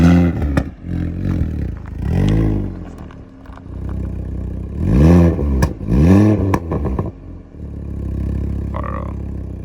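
Sports car engine revving in bursts while being driven, loud and close, with throaty rises and falls between quieter idle stretches and a brief clatter.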